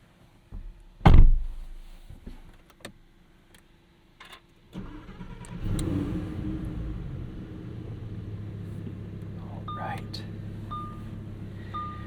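A car door thunks shut, then after a few quiet clicks the V10 engine of a 2023 Lamborghini Huracán Sterrato cranks and fires into a steady, rumbling idle that holds to the end.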